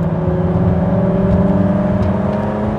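Ford GT sports car at the Road America circuit, its engine droning steadily and loudly with a sustained tonal hum, heard up close without any talk.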